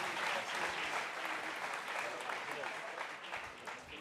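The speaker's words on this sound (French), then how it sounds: "on peut encore les applaudir" A large audience at a Geneva sports awards night claps continuously, a thick wash of applause with a faint murmur of voices underneath.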